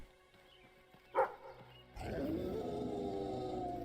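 A dog in the video game Fable III gives one short, loud bark, followed by a steady bed of game ambience and music.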